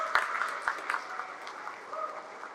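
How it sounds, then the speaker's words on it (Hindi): Audience applause at a state mega legal services camp, a modest burst of clapping from a seated crowd with a few sharp claps standing out, fading slightly over a couple of seconds. "जोरदार ताली बजा दीजिए इन फोरम के लिए"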